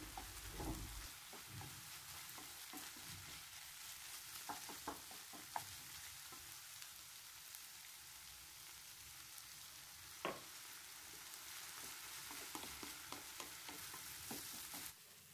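Tomato paste, parsley and a little water simmer in a pan with a soft, continuous faint sizzle and a few light taps and stirs of a utensil.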